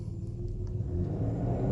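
A BMW X3 at a drag race start holds a low, steady engine rumble that swells slightly toward the end, close and moderately loud with no talking.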